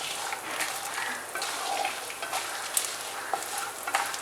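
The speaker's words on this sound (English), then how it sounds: "urad dal, chana dal, dry red chilies. I'm going to roast everything." Urad dal, chana dal and dry red chilies dry-roast and get stirred in a pan, giving a steady, close-up rustling sizzle with small scraping clicks throughout. No voices.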